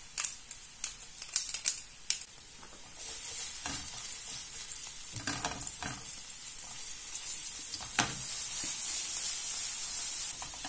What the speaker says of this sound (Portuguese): Quando está a fritar o alho e já vem aquele cheiro do alho